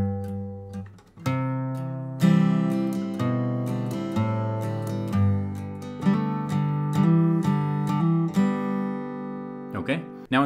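Acoustic guitar lick in bluegrass flatpicking style, with basic hammer-ons played by the middle finger over open strings, ringing notes in a steady flowing line, close and clear, played alone.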